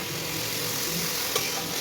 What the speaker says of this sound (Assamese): সেইখিনি ইয়াত দি দিলোঁ, তেলতে দি দিলোঁ। দি কিছু সময় ভাজিলোঁ